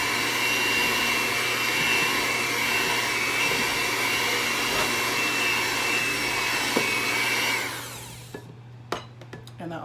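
An electric mixer whirs steadily through cookie dough for chocolate chip bacon cookies, a loud continuous motor drone that cuts off near the end, leaving a few light clicks and knocks.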